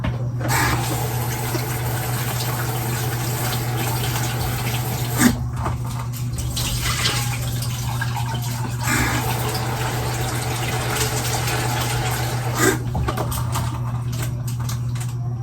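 Tap water runs steadily into a sink while sliced bananas are washed, a continuous close splashing flow with a few brief knocks and no talk over it.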